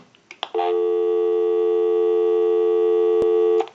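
An Automatic Electric chrome three-slot payphone gives a steady, loud busy signal: a continuous buzzing tone after a couple of brief clicks, cut off with a click near the end.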